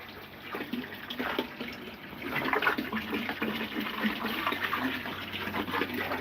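Water splashes and trickles steadily back into a pond after passing through a fry tank filter of matting and lava rock, a continuous close gurgling flow.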